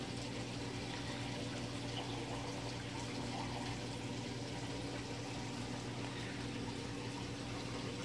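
Water pours steadily into a salad bowl in a fish-tank setting, a continuous low, even trickle and splash at moderate distance with no talking.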